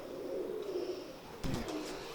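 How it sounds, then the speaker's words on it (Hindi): A red-eyed female pigeon of Tiger and Imamdin breeding gives a soft, low coo that carries through the first half, and a brief rustle or flutter breaks in near the end, nearby and moderately quiet. "ये मेरी कबूतरी है टाइगर और इमामदीन कबूतरों में से"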